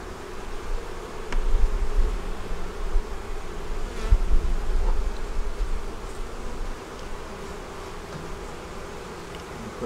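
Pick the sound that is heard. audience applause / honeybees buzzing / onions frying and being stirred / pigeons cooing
honeybees buzzing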